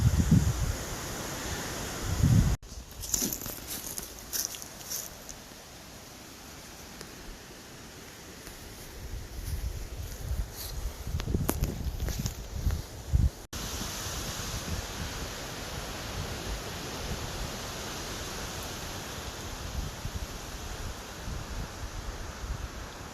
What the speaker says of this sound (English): it's nice and windy up here.